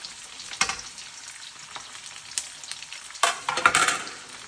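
Unsalted butter and pepper sizzling in a hot pan, a continuous crackling fry with sharper bursts and stirring scrapes scattered throughout.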